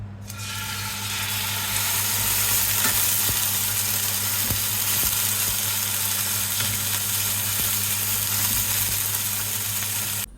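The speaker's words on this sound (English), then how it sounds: "So I'm searing the steak" Steak searing in a preheated cast iron pan makes a loud, continuous close sizzle and crackle that holds steady throughout, with a few faint knocks.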